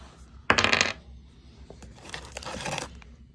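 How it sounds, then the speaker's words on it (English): A large plastic die is rolled, giving a sharp rattling clatter that tumbles and settles, followed by a softer second rustle and clatter a moment later, close up. "So I guess I'll just roll one dice."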